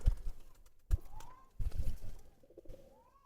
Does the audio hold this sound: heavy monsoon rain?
no